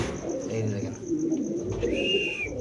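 Low, soft cooing of fancy pigeons, including Strawberry and Danish breeds, in the background, with a brief higher bird note and some faint voices nearby.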